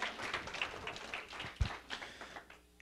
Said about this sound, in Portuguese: Eu quero um aplauso ao Senhor.